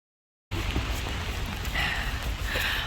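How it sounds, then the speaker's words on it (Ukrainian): Steady outdoor rain falls as a continuous, even hiss that starts abruptly after a short silence and holds at a moderate level, with no voices. "У нас сьогодні дощ."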